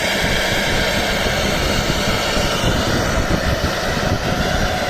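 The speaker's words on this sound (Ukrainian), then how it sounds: "Трактор працює, все добре." A loud, steady tractor engine drone in a field during no-till pea sowing, with constant rumble and hiss, unbroken throughout, no voices.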